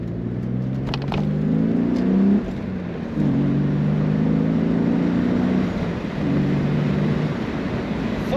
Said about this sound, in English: Today we're driving a 1998 BMW Z3.